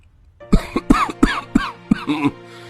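A burst of loud, harsh coughs, several in quick succession, rough and close up.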